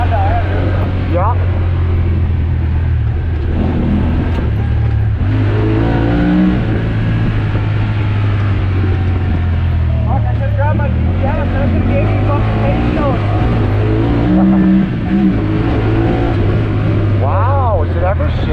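Honda Talon X side-by-side engine droning and revving steadily at close range for a long stretch, pitch rising and falling as it runs, with people talking over it.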